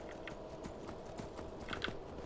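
Horse hooves in Skyrim, a quiet, irregular clip-clop of steps under a low ambient background, with a few slightly sharper knocks near the end.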